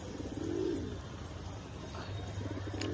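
Soft, low pigeon coos rising and falling nearby, a few bird calls over quiet outdoor background, no talking.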